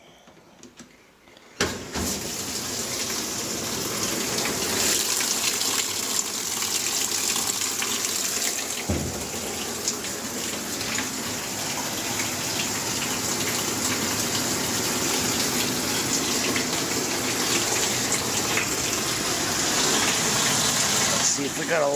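A GE top-load washing machine fills with water on a test run after a motor replacement, a steady loud gushing rush from the inlet after a brief quiet start, continuing unbroken throughout.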